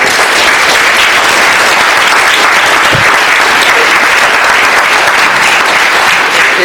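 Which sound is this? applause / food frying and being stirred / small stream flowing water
applause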